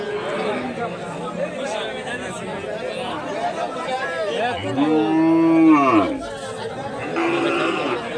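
A small local cow gives a long, loud moo that rises and falls, set against a busy crowd of chattering voices at an outdoor village cattle market.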